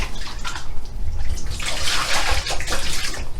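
Water sloshes and splashes continuously in a bucket bath as a baby is lowered into lukewarm water, with soft broadband swishing that swells near the middle and stays close and steady throughout.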